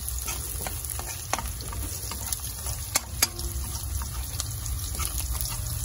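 Garlic sautés over high heat for budget spaghetti, a dense continuous sizzle with scraping stirs and a few sharp utensil clicks against the pan.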